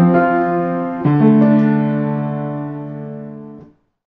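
An intro phrase played on an instrument, a few sustained notes struck and left ringing, decaying slowly before a clean stop.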